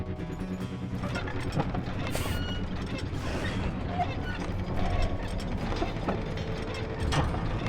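Elevator machinery in the Call of Juarez: Gunslinger video game, a steady mechanical grinding with ratcheting, creaking gear sounds that runs throughout under a dense game soundscape, with faint voices mixed in.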